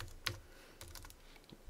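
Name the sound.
typing a name on a computer keyboard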